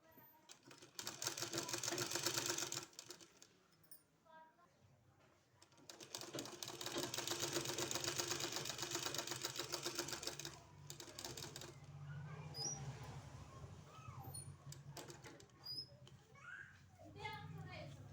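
A sewing machine stitches the neckline of a kurti, running in two long rattling bursts separated by short pauses, with a person talking over and between the runs.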